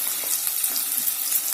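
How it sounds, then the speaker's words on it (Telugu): Finely chopped onions frying in oil in a pan for methi chicken, a steady close hiss and sizzle with faint stirring scrapes throughout, no voices. "తరిగేసిన తర్వాత దీంట్లో వేసుకొని బాగా వేయించుకోవాలి దీన్ని"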